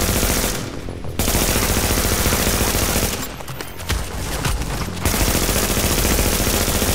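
Sustained rapid SMG fire in a video game, loud continuous rattling bursts with two brief pauses between long strings of shots.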